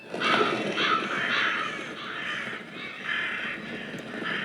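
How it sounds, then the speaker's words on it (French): Crows cawing in a flock as the birds take off, several harsh calls overlapping in a steady chorus of moderate loudness with no talking. "Une nuée d'oiseaux s'envole dans le ciel bleu pâle."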